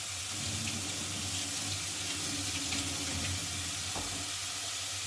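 Tap water runs steadily into a kitchen sink while vegetables are washed, with a faint sizzle from a pan of soup ingredients caramelizing on the stove nearby, no voices.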